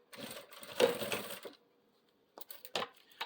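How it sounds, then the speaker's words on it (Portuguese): A sewing machine stitching around the edge of layered fabric in two short bursts of rapid mechanical clatter, the first about a second and a half long, then a pause, then a briefer, choppier run. "E vou passar uma costurinha toda a volta."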